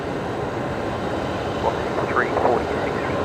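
Aircraft engine noise during pushback at Brisbane Airport, a steady broadband rumble throughout with a few brief whining tones rising over it; no one speaks.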